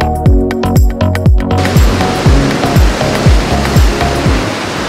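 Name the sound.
ocean waves below cliffs on Sunshine Coast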